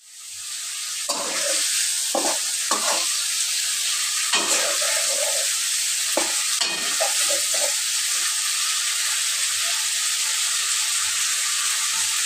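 Pangas fish pieces sautéing in a hot pan give a loud, continuous sizzle, broken by several short scraping stirs of a utensil, with no talking.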